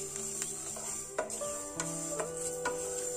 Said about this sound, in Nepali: पहिला सुरुमा भुट्दैछु मेथी। मेथी चलाएर एकछिन भुट्नुपर्छ।